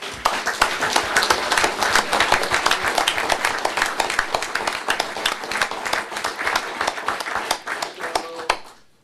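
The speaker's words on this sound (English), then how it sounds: "I think it's time to give them a big round of applause" A room full of people at a Margate, New Jersey town work meeting applauds with brisk, dense clapping for several seconds, tapering off abruptly near the end.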